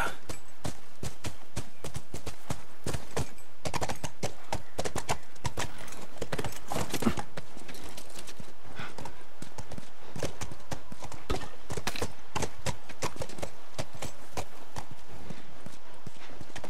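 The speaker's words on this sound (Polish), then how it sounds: "Wskakuj na konia." Horse hooves clip-clop steadily and fairly close in The Last of Us video game, a continuous trotting rhythm for the whole stretch.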